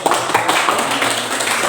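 A group of students in a classroom claps together, a dense, fairly close patter of hand claps holding steady for a moment.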